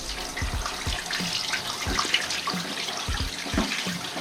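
Water runs from a tap at a motorcycle service spot, a continuous close splashing stream with irregular droplet spatters and small thuds layered over it, and no one speaking.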